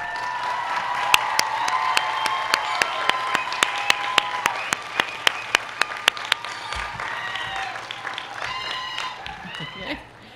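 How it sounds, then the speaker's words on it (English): Sustained applause from a large crowd at a university commencement ceremony, with sharp loud claps standing out through the middle, fading out near the end. "give you a well-deserved round of applause"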